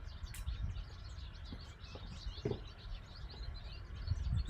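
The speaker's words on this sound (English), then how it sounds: "Listen to those birds." Birds chirp and tweet faintly in the background outdoors, scattered high calls over a low steady rumble, with no talking.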